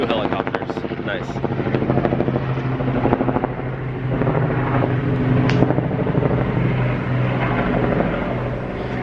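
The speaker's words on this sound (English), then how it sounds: "There's 2 helicopters." Helicopters flying overhead outdoors, a steady loud rotor drone throughout, with a voice talking over it.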